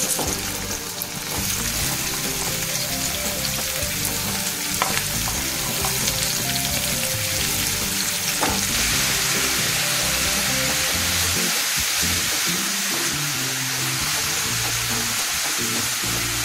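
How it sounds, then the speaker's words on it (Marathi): Onion frying in hot oil while a spiced cauliflower, potato and pea curry is being made: a steady, loud sizzle that crackles continuously throughout, with occasional stirring clinks and no talking. "तेल चांगलं तापलं की आपण कांदा घालायचा।"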